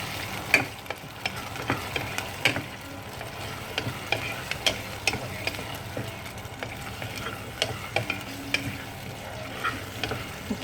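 Sardine curry stirred as it fries in a pan, a steady close sizzle with scattered sharp scraping and clinking strokes from the spoon throughout, no talking.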